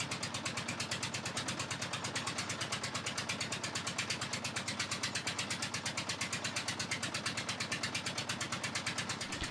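A clay grinding machine at a red brick works presses red clay into a large block, thumping in a fast, steady mechanical pulse with a constant engine-like drone, moderately close and unvarying.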